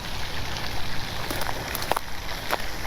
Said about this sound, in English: Got a little drizzle that's going on right now.